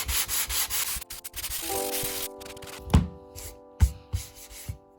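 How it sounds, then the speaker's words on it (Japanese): Sanding a repaired wooden floor by hand, with steady rubbing and rasping strokes close up, then a few sharp thunks and taps toward the end. "乾燥させて研磨します"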